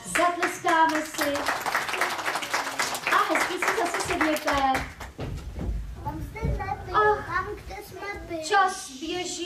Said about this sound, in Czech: Raz, dva, tři, zatleskáme si.